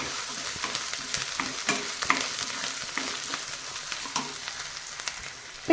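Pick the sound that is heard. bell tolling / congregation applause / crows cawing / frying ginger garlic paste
frying ginger garlic paste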